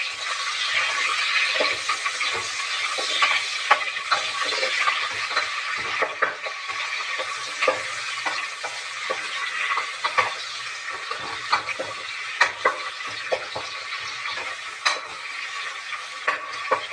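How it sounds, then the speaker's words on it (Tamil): Sliced onions fry in a pan for ghee rice, a continuous close sizzle with frequent crackling pops throughout. "இது நல்லா ஃப்ரை பண்ணுவோம் பார்த்தீங்கன்னா, நல்லா செவக்கணும்"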